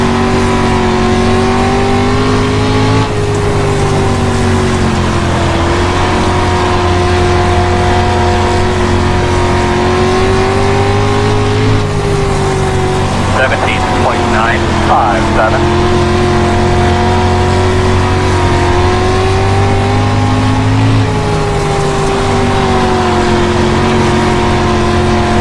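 Dirt street stock race car engines in iRacing during an enduro-style race at Lanier, a steady loud drone with shifting pitch as revs rise and fall, and a few faint clicks partway through.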